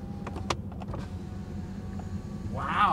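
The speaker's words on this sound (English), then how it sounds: "I can roll that window down over there from here if I want to." A rear power window motor whirs as the window glass rolls down inside a Mercedes S63, controlled from the back seat. The whine comes up near the end after some soft clicks and handling noises inside the cabin.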